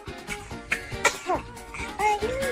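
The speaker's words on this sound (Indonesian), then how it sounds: "seketika itu ia bersin dengan suaranya yang lucu" A baby sneezes while held in its mother's arms, giving short cute bursts with small squeaky vocal sounds in between, close to the microphone.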